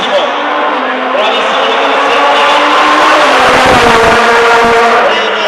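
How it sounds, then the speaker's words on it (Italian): Rally car racing at the Monza Rally Show, loud continuous engine roar with shifting pitch and a brief tire-scrub burst midway, under fast, excited commentary throughout. "Guardate come sta guidando dentro, bravissimo Luca"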